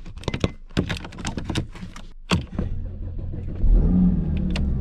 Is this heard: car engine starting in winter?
yes